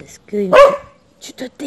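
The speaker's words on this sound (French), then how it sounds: "Désolée pour le chien." A dog barks a few times close by, with someone talking in French over the barks.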